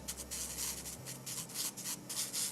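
A Natplus portable nail drill with a bit fitted runs in a close, steady whir with a gritty, rubbing texture, as if grinding against a surface, with no talk.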